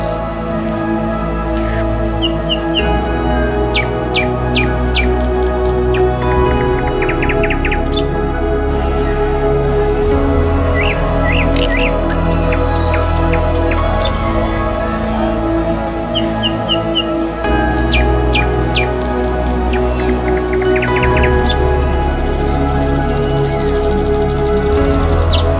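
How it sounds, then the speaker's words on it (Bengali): Small birds chirp and sing outdoors in short scattered bursts, fairly faint over a steady low droning hum that runs throughout. "প্রতিটা পাখির আওয়াজ দারুণ লাগছে আমার জায়গাটা"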